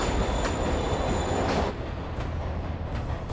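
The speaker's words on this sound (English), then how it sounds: "Train moving." A moving train rumbles past in Marvel's Spider-Man, loud and close, with wheel squeal and a harsh rush that drops slightly in level partway through before continuing steadily.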